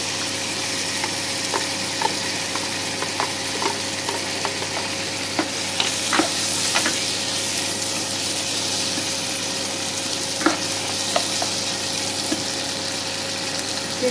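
Tomatoes go into hot oil spiced with red chilli and turmeric for tomato chutney, a steady close sizzle broken by scattered spoon scrapes and clicks, with no talking.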